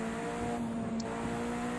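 Racing car engine and exhaust in the driving game Project Cars 2, a steady sustained drone with a bright tonal whine, held at constant loudness throughout with no talking.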